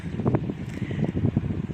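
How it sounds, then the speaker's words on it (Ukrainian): Cold morning wind blowing outdoors in a spring garden with white lilac in bloom, a fluctuating low rumble buffeting the microphone in uneven gusts throughout, with no speech. "холодний вітер сьогодні зранку"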